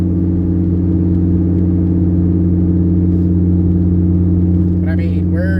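A Chevrolet Colorado truck with a 4L60E transmission cruising on its first real drive after an engine rebuild, a loud, steady in-cabin engine drone and road rumble, with a voice speaking briefly near the end.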